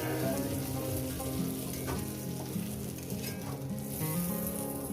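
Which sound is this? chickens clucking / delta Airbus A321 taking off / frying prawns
frying prawns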